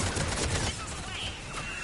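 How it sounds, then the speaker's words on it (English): Missiles launching in Mass Effect 3, a loud, broad roaring rush of combat noise with crackling, gunfire-like bursts, brief and dense. "Missiles away."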